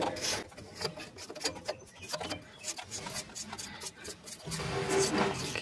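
A wrench clicks and scrapes against the threaded rings of a car's coilover suspension, a rapid irregular series of small metallic ticks and ratcheting taps, close and fairly quiet with no talking.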